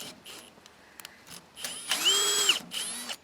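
A power drill whirs in short bursts, with a longer run near the end, close and fairly loud amid faint clicking.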